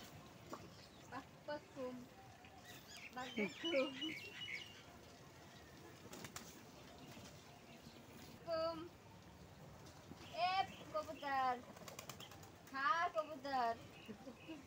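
Pigeons at a pigeon fair flap their wings in bursts and give soft calls and chirps, mixed with people talking nearby.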